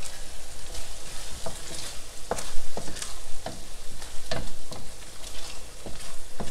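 Tomato-based sauce for eggplant parmesan bubbling and thickening in a pan, a steady soft sizzle with scattered pops and occasional stirring scrapes, close and continuous.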